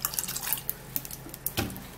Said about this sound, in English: I'm gonna be putting the ginger in there, and then I'm gonna be putting more water